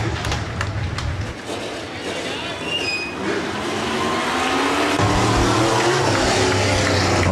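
B-modified race cars circle Rapid Speedway at the end of a race, a continuous roar of engines that swells louder and deeper toward the end, with an announcer talking over the noise.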